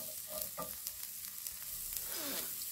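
Carrots sizzling and frying in a hot pan for Korean spicy squid stir-fry, with a steady close crackle, a few brief stirring scrapes and no talking.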